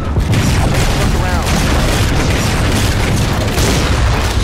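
A fuel rod gun explosion in the video game Halo 4 booms loud and close, a heavy low blast with crackling debris that carries on for several seconds under voices.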